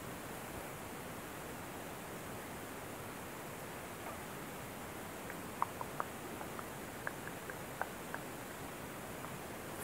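Rain falls outside as a steady, faint broadband hiss, with a few soft ticks and patters breaking through midway.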